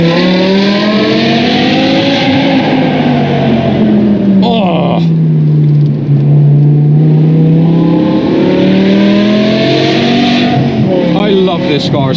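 BMW M5 E61 V10 Touring at speed on the autobahn, its engine and exhaust droning loudly inside the cabin with a rising and falling pitch as it accelerates; a voice briefly exclaims over it.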